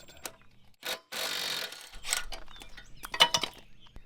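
A 3/4-inch bolt being worked loose with a ratchet wrench while parting out a Great Dane Super Surfer II mower deck: close, intermittent metallic clicks and ratcheting bursts separated by short pauses.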